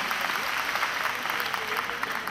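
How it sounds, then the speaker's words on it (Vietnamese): A seminar audience at a self-positioning and startup-thinking workshop breaks into steady, dense applause that fills the whole moment without pause, loud and close, with faint voices mixed into the crowd. "Và quý vị và các bạn hãy dành một tràng pháo tay cho tinh thần cầu tiến học hỏi của tất cả chúng ta."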